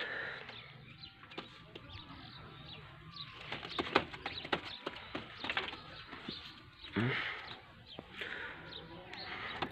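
Soft pigeon coos and a few bursts of wing flapping close by as a pigeon is released to fly, with someone talking in Urdu or Hindi over and between the bird sounds.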